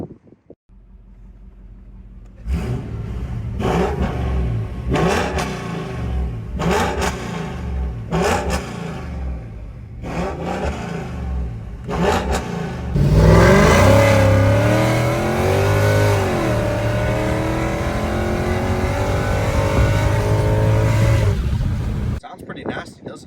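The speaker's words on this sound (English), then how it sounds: "you guys are going to hear exactly what this car sounds like" A supercharged Mercedes M113K engine with C63 mufflers revs in several sharp bursts, then holds a loud, rising and falling roar with a deep, rumbling exhaust tone.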